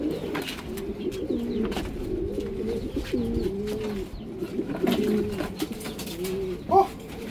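A pigeon or dove coos repeatedly in a soft, rhythmic series of low, rolling calls close by, with faint background noise and a brief voice near the end.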